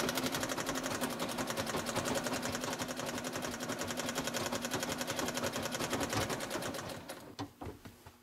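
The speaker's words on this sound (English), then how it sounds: "So spin, sew, and every time you stop," An old treadle-powered sewing machine runs steadily, its needle clattering in a fast, even rhythm that stays loud and close for most of the stretch, then slows and stops with a few separate clicks at the end.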